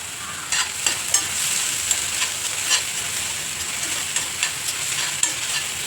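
Beans are stir-fried in a pan with a constant bright sizzle and a scatter of clicks and scrapes as they are stirred, close up and with no talking.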